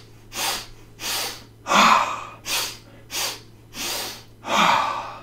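Seven forceful breaths from a Breath of Joy breathing exercise come in an even rhythm, each a loud rushing inhale or exhale of about half a second. A low steady hum runs underneath.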